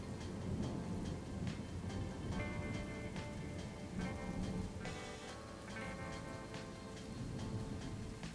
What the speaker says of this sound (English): It began to rain, so we equipped our rain gear.